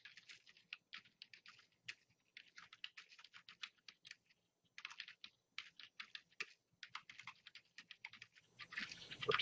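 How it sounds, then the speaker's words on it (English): Quick, irregular clatter of keys on a computer keyboard, typed in short bursts with pauses, fairly close and quiet. "as I'm typing, you see on the right-hand side here"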